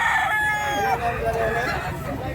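Rooster crowing and clucking carry over steady market noise where chickens are bought and sold in Mantalungon, Barili, several birds calling at moderate distance with people talking in the background.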